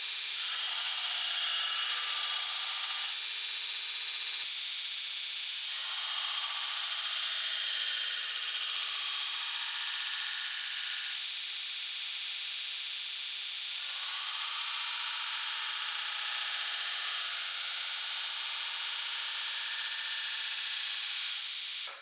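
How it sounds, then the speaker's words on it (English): A grinder thins a forged stainless-steel fillet knife blade down toward 1/8 inch, giving a steady, fairly loud high hiss that runs without a break, with the pitch and pressure of the grinding shifting as the steel is worked. "We can go ahead and thin it down a little bit."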